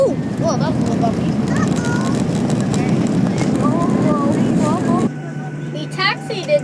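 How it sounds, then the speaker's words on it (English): Steady loud cabin rumble of an airliner rolling on the ground after a bumpy landing and taxiing to the gate, with faint voices over it; the engine drone drops sharply near the end. "We taxied into the gate."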